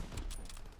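A sniper rifle shot fires in a Call of Duty WW2 match, a single faint burst of gunfire with no talk over it.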